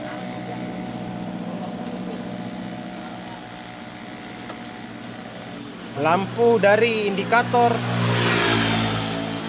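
A Yamaha Mio J scooter engine idles steadily in the background while someone speaks, with a few brief revs partway through.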